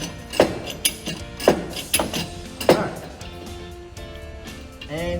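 A ratchet chain binder being cranked tight on a load chain gives a close series of loud, uneven ratcheting clacks and clicks that thin out into a quieter ringing tail.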